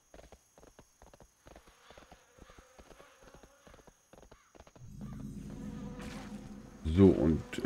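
Horse hooves clip-clopping at a steady trot while riding along a road in World of Warcraft, crisp rhythmic footfalls up close, later joined by louder game ambience and a brief surge.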